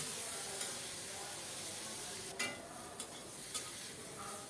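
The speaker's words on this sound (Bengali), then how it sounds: "খুব সুন্দর মতো শিমটাও ভাজা হয়ে গেছে" Flat beans fry in oil in a pan, a steady soft sizzle running throughout with a few light stirring clicks and scrapes of a utensil against the pan.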